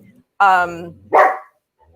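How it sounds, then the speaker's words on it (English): A pet dog indoors gives two loud, close barks, the first longer and drawn out, the second short and sharp, separated by a brief pause. "Can you hear him barking?"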